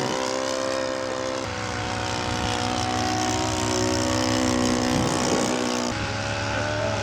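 A small scale model plane engine drones steadily with a buzzing whine at an outdoor scale aircraft show, staying loud and close throughout as it makes a low pass in windy conditions, with no voices.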